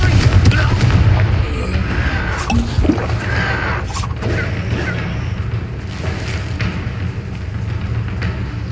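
Fiery Confringo spell blasts in the Hogwarts Legacy video game, a dense run of booming impacts and crackling bursts layered over a steady rumble of combat noise, loud and continuous throughout.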